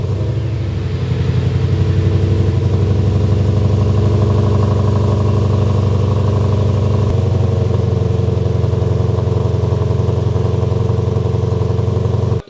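A car engine idles steadily and loudly, close by, with a continuous low rumble and faint mechanical clatter that holds from start to finish with no talking.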